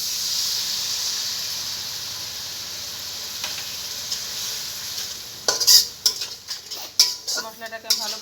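Spices frying with potatoes and okra in a pan give a steady hiss at first; then, in the last few seconds, a spatula scrapes and clinks against the metal in quick, uneven strokes over the sizzle.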